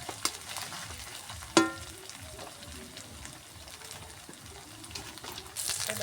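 Ginger and garlic paste fries in a pan for a rajma curry, a soft, fairly quiet sizzle broken by a sharp utensil clank near the start and brief scraping stirs.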